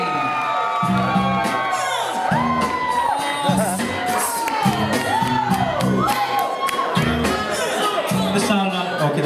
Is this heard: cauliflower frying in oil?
no